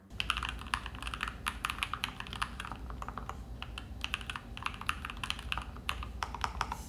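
A NocFree Lite split keyboard fitted with Gateron G Pro 2.0 White switches is typed on at a steady pace, producing a quiet, soft, close clatter of keystrokes with brief pauses and no voices.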